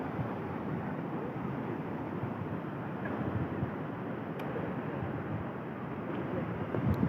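Steady broadband roar of ocean waves and surf at Kuakata sea beach, Patuakhali, continuous and fairly loud with wind buffeting the microphone throughout, no distinct breaks.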